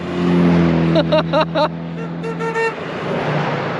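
Classic rally cars pass along a road in France one after another, with engine drone, a few horn-like tones and rising passing whooshes, fairly close and loud, with faint voices in the background.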